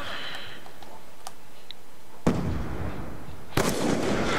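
Two sharp, booming shots from a DSR-50 sniper rifle in Black Ops 2 ring out over a steady game background, spaced about a second apart, each with a loud crack and fading tail.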